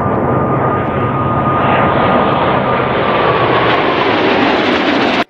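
Fighter jet engine roaring in a steady, loud broadband rush with a faint tonal whine, sustained and continuous throughout before cutting off abruptly at the end.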